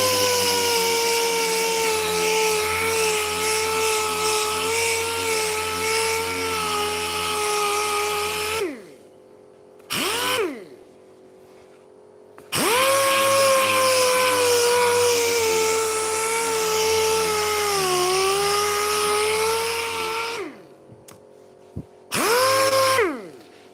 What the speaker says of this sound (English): I come down to 320 grit now.